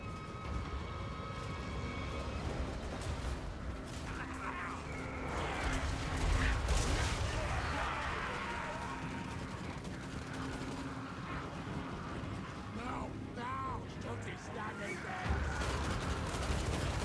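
Crane gunners firing volleys into an enemy army in the fantasy battle game Total War: Warhammer 3, a steady dense rumble of booming shots and clatter with heavier surges around the middle and end, with a voice talking over it.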